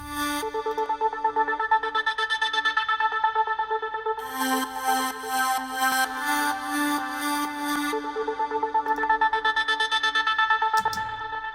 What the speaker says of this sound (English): I also have the Juno chorus. It's going to make it add a little bit more width to everything here.